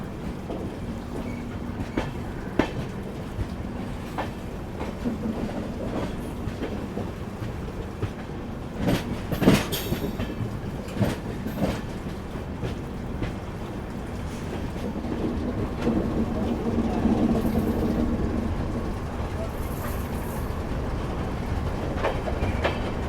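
The Mizoram Rajdhani Express rumbles steadily along the rails in India, heard from inside the carriage, with clattering wheel knocks and occasional sharp clanks, no voices.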